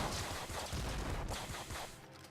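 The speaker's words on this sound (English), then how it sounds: "Only my shotgun shoots fire." Gunfire bursts from a fire-shooting shotgun in the video game Nuclear Throne, a dense, loud barrage of overlapping blasts and crackle filling the whole stretch.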